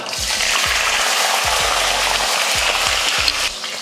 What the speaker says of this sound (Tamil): எண்ணெய் காஞ்சதுமே கடுகு வந்து கொஞ்சம் சீரகம், அடுத்து சின்ன வெங்காயம் சேர்த்துடலாம்.